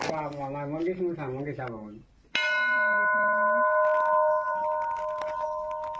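A temple bell at the old Gangeshwar temple is struck once after someone speaks, ringing loud and close with a bright sustained tone that slowly fades, a voice briefly murmuring under it.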